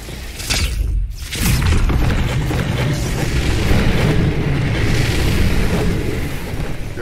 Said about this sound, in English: I'm dropping nades.